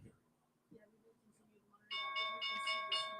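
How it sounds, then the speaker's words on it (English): A stock market closing bell rings out, a loud sustained metallic clang with repeated strikes that enters abruptly after faint background murmur and keeps ringing to the end. "Okay, that's the closing bell coming in."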